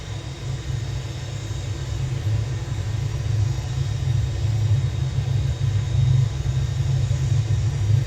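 Aircraft engine roaring on a takeoff roll in Microsoft Flight Simulator, a heavy low rumble that builds gradually and holds steady and loud, with no voices over it.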